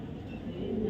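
Racing pigeons coo softly nearby, a low, murmuring warble continuing through one short moment.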